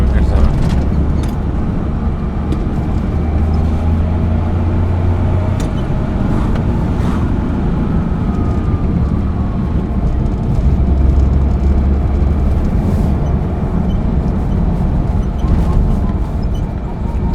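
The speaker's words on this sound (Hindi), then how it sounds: "ये टर्बो साउंड सुन के बहुत टाइम बाद" A 24-year-old Maruti 800 car drives along with a steady engine drone and low rumble, a faint turbo-like whine rising over the road noise throughout.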